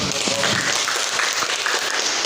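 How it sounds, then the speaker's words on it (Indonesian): A classroom applauds after a group presentation, with a steady wash of clapping running under voices talking throughout. "Ya, beri tepuk tangan"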